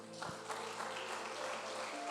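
Church congregation claps for the Lord, a dense, fairly faint wash of applause filling a reverberant room, steady throughout the brief stretch with no single claps standing out.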